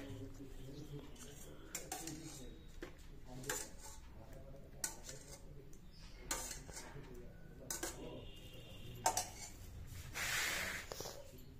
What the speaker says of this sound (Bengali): চারটে প্লেট সাজানো হয়ে গেল